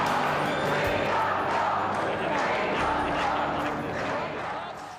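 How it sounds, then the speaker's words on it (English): Crowd at the federal election tally room in Canberra, a dense roar of many voices with cheers and shouts heard from above, fading slightly toward the end. "Looking down at the crowd, which is down below here at the tally room in Canberra"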